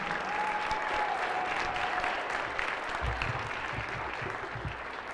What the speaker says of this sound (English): Let's give one more round of applause for our entire 2020 Jefferson Homecoming Court.